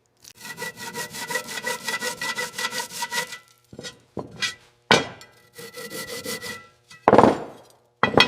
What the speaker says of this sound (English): we meticulously pack the vintage Stutz bearing until the grease is forced evenly through the cage.